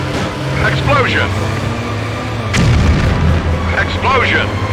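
A sharp explosion bursts out during a stunt-driving run in the 2002 PS2 game Stuntman, with a loud broadband blast at mid-clip over steady engine drone and squealing tire or siren-like sweeps.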